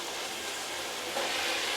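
Ginger garlic paste sautéing in a pan, a soft, even hiss of frying that swells slightly louder partway through, close and without voices.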